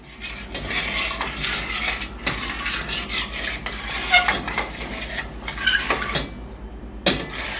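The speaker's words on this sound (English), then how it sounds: "you just come back and you stir" A spoon scrapes and clinks against a pot while chocolate pudding is stirred. The strokes come in irregular metallic bursts, close and moderately loud, with no talking.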